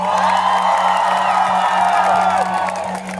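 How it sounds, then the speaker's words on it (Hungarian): A large crowd in Hatvan applauds and cheers for Fannika, with loud whoops and shouts over continuous clapping and a steady low hum underneath, tapering slightly at the end. "Fannikának egy nagy tapsot."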